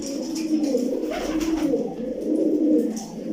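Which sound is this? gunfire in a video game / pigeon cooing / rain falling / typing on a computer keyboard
pigeon cooing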